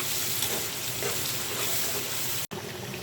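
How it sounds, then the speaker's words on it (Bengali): Sliced onions frying in oil for birista, a continuous bright hiss and crackle at close range that holds steady, briefly cut by a sharp click near the end. "এই তেলের ভিতরে ব্রেস্তাটা ভেজে নিচ্ছি।"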